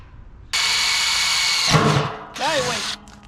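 Power drill boring holes for an old jerry can filler neck on a custom C10 truck, a loud steady whine for over a second, a grinding bite into the metal, then a shorter second burst, with a voice briefly under it.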